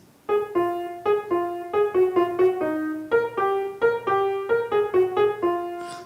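Solo piano plays the lively Mexican folk tune El Perico, a quick run of bright, evenly spaced notes over a low sustained bass, close and clear with no talking.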